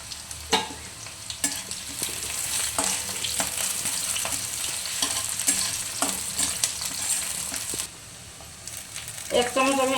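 Tempering spices (phoron) frying in hot oil for a Bengali potato, spinach and eggplant dish: a steady loud sizzle with stirring scrapes throughout, dipping briefly near the end, no talk.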